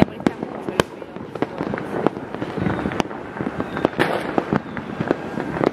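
New Year's fireworks and firecrackers burst in quick irregular succession around La Plata, Argentina, sharp cracks and booms near and far over a crowd's background murmur, with voices chatting between the blasts.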